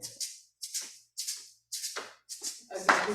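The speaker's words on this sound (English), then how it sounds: "Oh, I'm gonna play my shaker." A handheld shaker played in a church service, giving short bright rattling bursts in a loose, uneven rhythm, close and clear with no talking.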